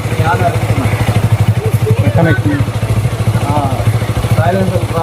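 A motorcycle engine runs through its exhaust silencer with a loud, steady pulsing throb, close by, while people talk over it.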